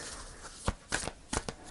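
Tarot cards are shuffled in several quick, soft riffling bursts with short pauses between them, close by and fairly quiet.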